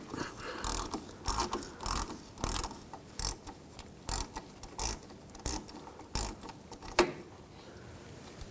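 Ratchet wrench removing rear suspension bolts on a 2003-2008 Subaru Forester during a rear knuckle replacement, close-up bursts of rapid clicking repeating every second or so with brief pauses between strokes.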